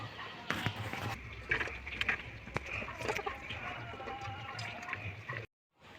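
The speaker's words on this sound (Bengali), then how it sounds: "এবার পটলটা আমি জলে ভালো করে ধুয়ে তুলে নেব।" Cut pointed gourd (potol) pieces being rinsed by hand in a bowl of water, with soft splashing and sloshing plus occasional clatters, steady and close before stopping abruptly near the end.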